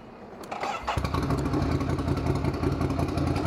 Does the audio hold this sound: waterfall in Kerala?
no